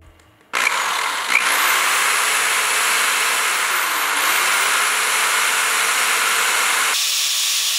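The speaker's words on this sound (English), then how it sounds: "I've seen people use drills lately and I've been wanting to try it." A power drill enlarging holes in the rim of a pottery bowl starts abruptly and runs at a steady high-pitched whine with gritty hiss, loud and close, then cuts off near the end.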